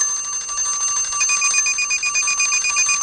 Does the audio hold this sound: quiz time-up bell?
yes